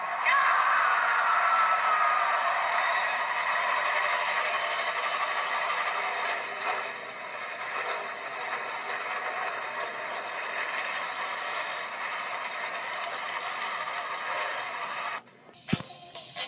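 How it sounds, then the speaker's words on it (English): NASCAR stock car engines fire up and idle together at a road-course race, a steady dense mechanical drone heard from a distance that dips slightly midway, ending with a sharp click. "Well, the engines are fired."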